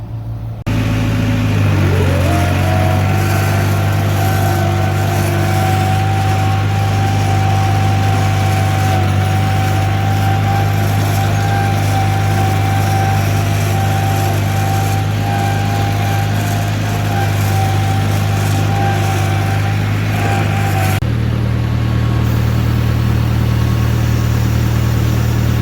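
An International tractor engine starts up and runs steadily at a loud, constant drone close by, then its pitch drops slightly near the end.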